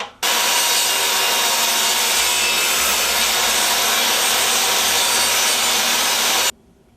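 A table saw rips a strip of wood for repairing a rotten entrance door frame, one loud continuous cut of about six seconds that starts abruptly and stops cleanly, with a faint motor hum underneath.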